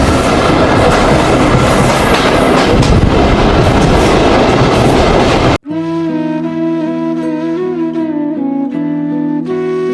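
A passenger train running from Rajshahi toward Nachole roars loudly with rushing wheel noise, then cuts to a quieter passage with steady tonal humming.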